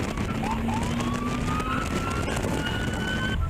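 A police car siren wails in rising and falling sweeps over a dense wash of road and engine noise, loud and close, with a police escort moving through traffic.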